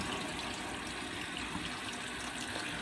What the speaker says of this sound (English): we're just going to continue to run water through this until we get all of the chemical out